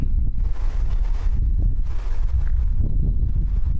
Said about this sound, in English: as I said, it's windy